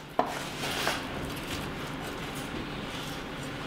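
A knife carves through the crisp skin of a deep fried turkey, giving a sharp crunch at the start, then a steady close rasp of cutting and scraping.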